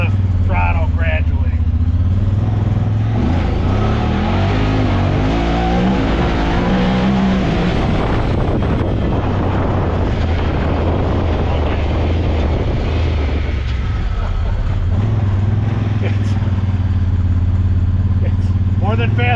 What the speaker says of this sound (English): I'll try to do one more speed run. One more speed run. I'll roll into the throttle gradually.